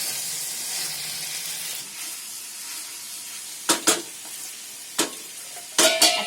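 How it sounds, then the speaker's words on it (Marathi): A vegetable dish sizzles in a pan with a steady hissing crackle that fades slightly, then several sharp scraping stirs and clacks of the spatula or lid arrive in quick bursts near the end, close up. "ही भाजी जरा चरचरते ना"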